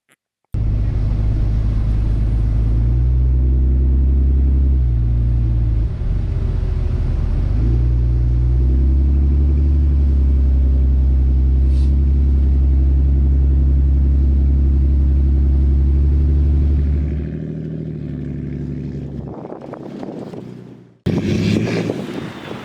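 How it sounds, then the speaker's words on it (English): A car cruises along a road in the Outer Banks beach area with a steady, loud engine and tire rumble and buffeting wind noise. Near the end the drone fades and then returns louder for the last moments. "we just keep on driving for a while until we decide to turn around"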